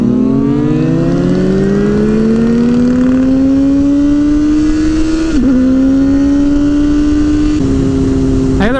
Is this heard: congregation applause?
no